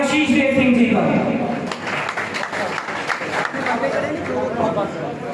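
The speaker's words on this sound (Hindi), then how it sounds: "जोरदार तालियों के बीच स्वागत करें" A crowd claps and cheers at an Aam Aadmi Party political rally in Garden Estate, Reasi, a dense wash of applause and chatter rising and falling while a voice carries over it.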